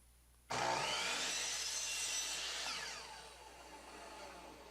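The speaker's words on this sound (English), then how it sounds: "so now I'm just cutting up the strips into pieces" Power saw cutting wood strips into pieces for storage bin cleats: a loud, close, continuous cut starts abruptly and lasts about two and a half seconds, then drops to a lower whine as the blade runs on.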